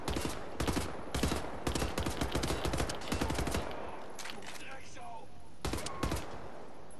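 Rapid bursts of weapon fire in Wolfenstein: The New Order, loud repeated volleys in several clusters with short pauses between them and a quieter stretch before a final burst.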